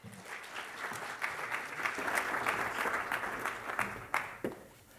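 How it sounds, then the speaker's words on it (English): Lecture audience applauding a guest executive, a steady dense wash of many hands clapping at moderate distance, sustained throughout with a few sharper individual claps near the end as it begins to fade. "Let's give him a warm round of applause."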